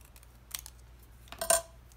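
A handheld corner punch rounds the corners of a small paper tag, giving two quick crisp clicks about a second apart, the second louder and sharper, over a quiet background.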